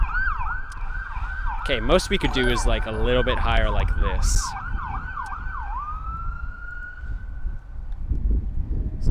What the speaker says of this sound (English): Another ambulance going by.